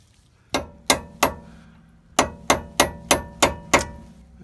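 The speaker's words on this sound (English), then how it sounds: "we got to stake down the axle nut to keep it from spinning" Hammer driving a flat-nose punch to stake a Honda axle nut during a hub bearing replacement: eight sharp metallic strikes, three then a pause then five in a steady rhythm, close and loud, with no talking.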